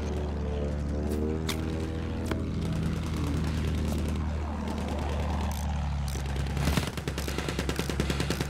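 Propeller attack plane in the Battlefield 1 video game, a steady droning engine hum with bursts of machine-gun fire crackling over it toward the end.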